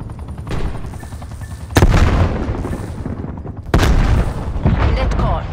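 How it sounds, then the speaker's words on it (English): Incoming artillery fire in a first-person shooter team deathmatch: two loud, sharp booming impacts about two seconds apart over continuous gunfire and game noise. "incoming artillery"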